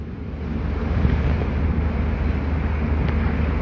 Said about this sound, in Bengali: এই যে তীব্র বাতাস এবং বৃষ্টির সঙ্গে সেটি কিন্তু আপনাদেরও দেখানোর চেষ্টা করছি